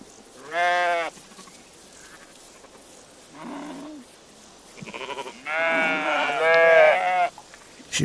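Several sheep bleat in short bursts, some overlapping, close by against a quiet outdoor background.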